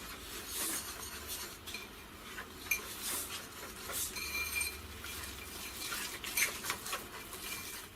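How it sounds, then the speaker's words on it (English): Icing sugar and eggnog being mixed into a paste in a bowl for a cherry eggnog Christmas cake, a steady close clatter and scrape of a utensil against the bowl throughout, with no talk. "Just mix this until you've got a yummy paste."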